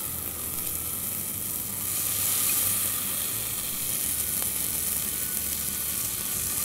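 Fresh corn kernels hit a hot pan of masala for corn pulao, setting off a steady, close sizzle and frying hiss that swells slightly midway and keeps going with no talk.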